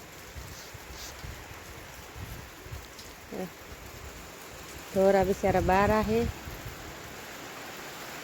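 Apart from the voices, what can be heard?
rain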